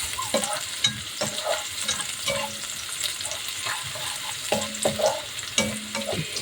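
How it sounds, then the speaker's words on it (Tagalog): Chicken feet and red onions are stirred in a hot pan: a continuous sizzle broken by repeated, rhythmic scraping strokes of a utensil, close and fairly loud, with no voices. "Ihalo natin lahat"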